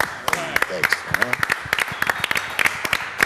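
Several people clap and applaud in a home setting. The claps are sharp and irregular, with talk and murmuring between them.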